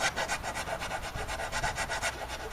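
A hand file made for metal rasps back and forth at close range in a steady, even rhythm of quick strokes, with no voices.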